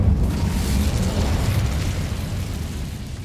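A fire spell erupts with a dense, roaring whoosh and boom in a fantasy wizarding video game, loud and sustained for a few seconds with no talking over it.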